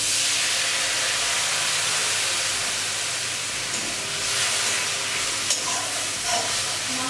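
Ginger-garlic paste with coriander, red chilli and turmeric powders simmering in a little water for parshe fish curry, giving a steady close hiss and bubble that runs unbroken throughout, with a few faint pops near the end.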